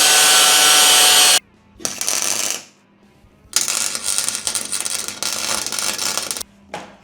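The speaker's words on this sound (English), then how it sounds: "get a couple of tack welds in it." Tack welds being put on a homemade GT spoiler: loud crackling, buzzing weld bursts, a long one at the start and several shorter ones separated by near silence.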